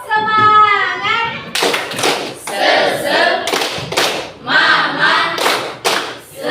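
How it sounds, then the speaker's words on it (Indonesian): A classroom of children standing to do a rhythmic spirit clap: a few sharp, evenly spaced claps and thumps ring out amid lively children's voices and chanting. "Tepuk semangat."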